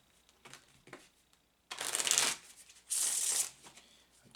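Two loud bursts of riffle-shuffling a deck of tarot cards, each about a second long and separated by a short pause, with faint soft handling noises before them.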